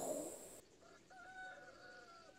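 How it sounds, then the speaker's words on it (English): A faint rooster crows in a 1984 horror film, a short rising cock-a-doodle-doo following a brief burst of noise, heard quietly with no talk. "Cock-a-doodle-doo."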